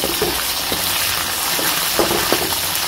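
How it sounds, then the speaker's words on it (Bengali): Dried fish, mohila and chepa shutki, frying in a pan with a loud steady sizzle and hiss, broken by occasional soft scraping from stirring. "এখন এটা হালকা লাল করে নিব, দুটোটা একসাথে ভালোভাবে ভেজে নিব"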